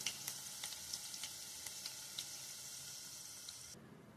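Cabbage bonda fritters dropped into hot oil for an evening snack, giving a steady broadband sizzle with small crackling pops throughout, continuous and fairly close, cutting off abruptly near the end.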